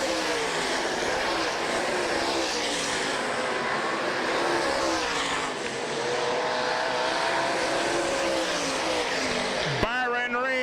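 Big block modified race cars roar around a dirt track at the Sharon Nationals, a dense, sustained engine drone from several cars close by, with an announcer's voice talking over it.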